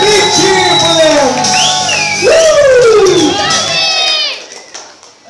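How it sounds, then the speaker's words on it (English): A wrestling show crowd cheers and whoops loudly for about four seconds while a shouting announcer's voice rises over it, then the noise drops away sharply near the end. "Give him a big cheer as they go back."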